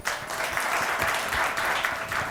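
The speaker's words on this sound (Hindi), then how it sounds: "मंदू खिल साहब के लिए बहुत सारी तालियाँ" Studio audience applause on a Pakistani morning talk show, a steady dense patter of many hands clapping at moderate loudness for about two seconds with no voices on top.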